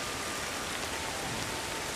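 Steady rain hisses down in the wilderness of the video game Ancestors: The Humankind Odyssey, a dense, even wash of drops with no pauses and no voices over it.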